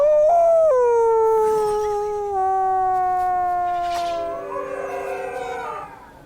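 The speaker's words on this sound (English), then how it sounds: "Wolves howl to warn neighbouring packs to keep their distance" A wolf howl rises, then slides into a long, clear, mournful tone that slowly falls, with a second voice joining near the end, loud and close with nothing else heard.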